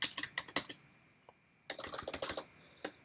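Quiet clicking bursts of typing on a computer keyboard into a search box, a short flurry of keystrokes, a pause with a single tap, then a denser run of keys.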